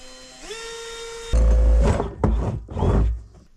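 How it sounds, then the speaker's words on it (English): A power drill bores a hole through joined barrels: the motor whines and rises in pitch, then bites loudly into the material in three rough, grinding bursts. "Drill a hole right in the center between the 2 of"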